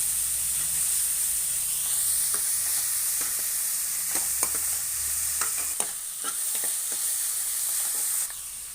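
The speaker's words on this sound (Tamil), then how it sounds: "இஞ்சி பூண்டு வந்து நான் தட்டி வச்சுருக்கிறேன். இதையும் போட்டு நல்லா வதக்கிக்கலாம்." Onions with crushed ginger and garlic sizzle steadily in a hot pan for egg drop curry, a continuous close frying hiss with occasional stirring taps and scrapes, no talking.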